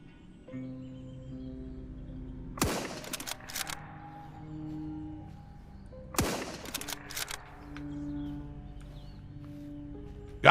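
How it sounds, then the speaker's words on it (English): A hunting rifle fired at deer in a video game: two loud, sharp cracks about three and a half seconds apart, each with a brief echoing tail, over soft background music. "So we're going to switch to our hunting rifle."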